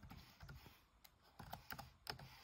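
Quick, irregular keystrokes on a computer keyboard as a search term is entered in an online shop, a short burst of soft clicks heard close and alone.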